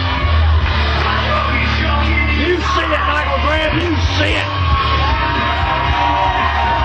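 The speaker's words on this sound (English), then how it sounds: "this crowd is going crazy right now for Wolfie D" Wrestling arena crowd yelling and cheering for Southern All-Star Heavyweight Champion Wolfie D during his entrance, a loud steady roar throughout with a commentator talking over it.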